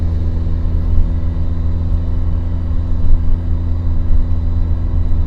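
Low, steady engine drone of a long-abandoned Porsche 944 under way on the road, loud and close from inside the car, a continuous rumble with slight swells and no talking.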